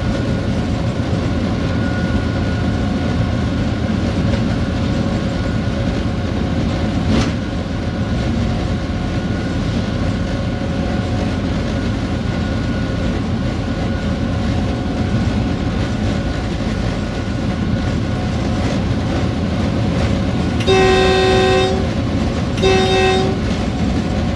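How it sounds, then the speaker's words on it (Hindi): A Pakistan Railways train rolls steadily through Changa Manga forest with a loud, continuous rumble and rhythmic wheel clatter, and two short horn blasts sound near the end. "छांगा मांगा के जंगल से गुजर रही है ट्रेन"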